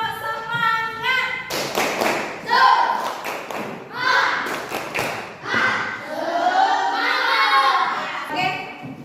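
A class of students performs a rhythmic clapping cheer in a classroom, with bursts of sharp claps in patterned beats alternating with loud chanted voices, all close and lively.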